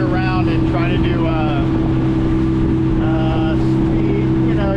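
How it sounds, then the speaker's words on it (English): A small skiff's outboard motor runs steadily across Little Lake Conway in Orlando, Florida, heading into the wind. The engine drone is loud and close, with wind buffeting the microphone and someone talking over it. "right now I'm motoring across the lake again against the wind"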